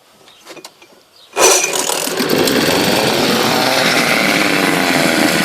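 Small two-stroke engine, run with the fuel line disconnected to burn off what remains in the carburettor, is pulled and fires after a few faint taps, then settles into a loud, steady buzzing run close by.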